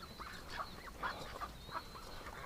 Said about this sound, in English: Let's see how close we can get to the Canada Goose.